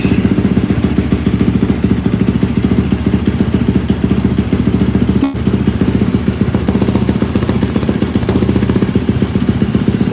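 A supermoto motorcycle, freshly serviced with a new spark plug and air filter, idles steadily and loudly up close with an even, throbbing engine pulse and one brief thump midway.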